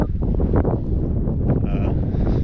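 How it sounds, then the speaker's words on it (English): Strong wind buffets a wet wild camp with tarp and bivvy on Dartmoor moorland near Great Staple Tor, a loud, steady roaring rush with gusty swells and no break. "everything's quite hard to cook when the wind's up like it is at the moment"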